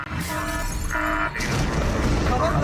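An airplane's front windshield glass shatters in a loud, close crash and breaking burst, followed by continuing rumble and noise in the cockpit.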